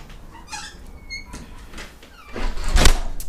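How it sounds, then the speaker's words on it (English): A house front door being opened, with a faint squeak and creak of the hinges and latch, then louder handling noise and footsteps close by as someone steps inside. No one speaks. "And we'll head into the house now through the front door."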